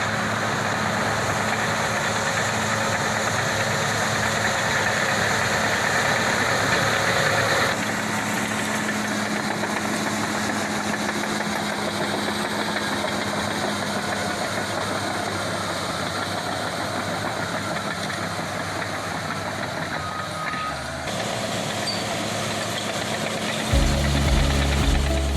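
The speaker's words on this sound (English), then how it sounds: "it's time to doze it, to kind of go through and smooth out that driveway a little bit" Heavy bulldozer working a gravel driveway at an RV site, a steady loud diesel engine drone with rumbling vibration that runs continuously, shifting in pitch partway through and rising at the end.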